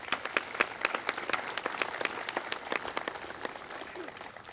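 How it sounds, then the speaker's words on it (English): Audience applause for veterans and active military personnel at an outdoor Veterans Day ceremony in Cupertino: steady, dense clapping from a crowd of moderate size, sustained throughout and slightly tapering at the end. "If we could give them another round of applause."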